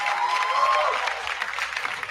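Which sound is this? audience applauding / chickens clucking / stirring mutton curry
audience applauding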